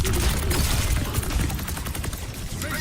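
Overwatch gameplay with dense gunfire: rapid, continuous shots and impact clatter with steady, loud intensity, layered over a busy game soundscape.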